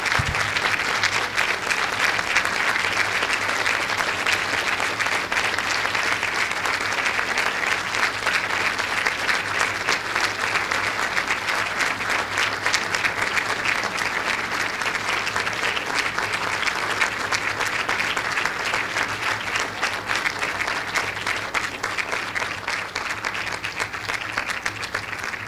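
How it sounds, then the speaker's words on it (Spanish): Long, steady applause from an audience at a congress session welcoming a maestro, even, dense clapping sustained throughout with a low hum beneath. "a quien le solicito un aplauso"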